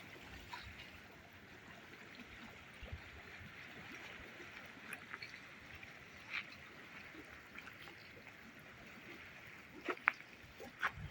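Gentle sea water lapping and trickling in a steady wash on a calm, glassy sea, with a few small splashes and clicks near the end; no voices.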